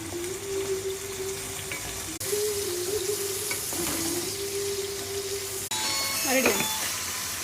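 Sliced onions fry with salt in a pan, giving a continuous close sizzle with a few utensil clinks and scrapes near the end, and a steady tone underneath.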